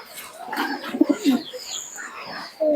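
A Giribaz pigeon coos nearby in a few low, rolling throaty notes, with faint background murmur and a brief sharp tone at the end.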